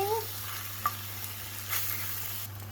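Steady sizzling of beef frying in a hot pan, with a brief stir or scrape partway through; no voices.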